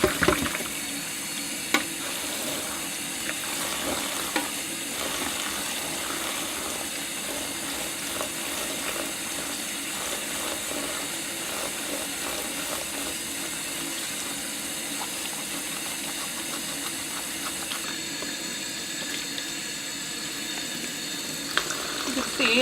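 Naturally dyed fabric, colored with Concord grape dye, rinsed in a sink of water with a few drops of dish soap, giving steady splashing and running water throughout, close and continuous, with a voice speaking at times.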